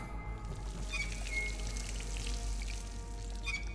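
A tap pours water in the video game Dishonored, a continuous splashing rush with a faint tonal ring, steady throughout and heard alone at moderate volume.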